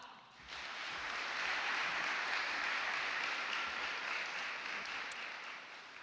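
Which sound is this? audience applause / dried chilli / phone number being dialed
audience applause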